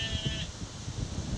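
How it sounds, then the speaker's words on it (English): Sheep bleat out in the countryside along a walking route near Ickleford, a single clear bleat near the start over a low steady background rumble. "Sheep agrees anyway."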